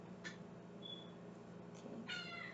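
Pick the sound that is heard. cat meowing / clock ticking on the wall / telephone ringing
cat meowing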